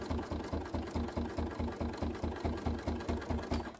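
A sewing machine stitches a small zigzag through layered stamped fabric, thumping in a quick, even rhythm of about four dunks per second, close and fairly quiet, with the motor hum running steadily underneath.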